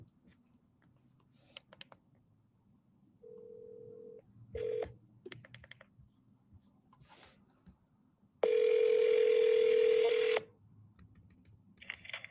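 Someone dials a phone during a cold call, with a few short key tones followed by a long steady tone, set against faint room noise and small clicks, with no talking.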